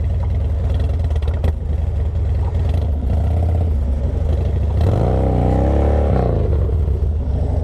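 A Harley motorcycle revs hard while its rear wheel spins against pavement, a loud continuous engine roar with a rising, wavering rev surge near the end and clattering mechanical texture throughout.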